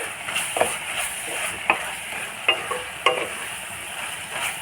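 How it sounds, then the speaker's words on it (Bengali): Elephant apple (chalta) pickle stirred in a pan, a low steady sizzle broken by several distinct spatula scrapes and knocks against the metal, close and unaccompanied by talk. "দিয়ে আর একটু দেখো নাড়াচাড়া করে নিচ্ছি।"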